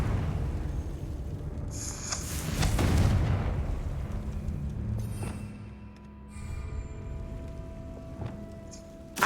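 A Confringo spell blast goes off in the Hogwarts Legacy video game, a booming explosive burst with a rumbling tail, followed by fainter game effects and a sharp pop at the end.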